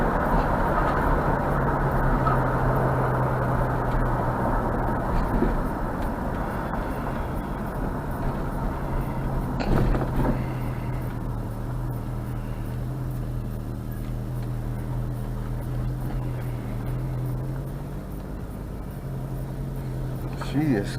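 A 1973 Ford Torino Sport running at idle just after its first start, a steady quiet engine drone with a slight exhaust leak, loud and close throughout with a brief knock near the middle.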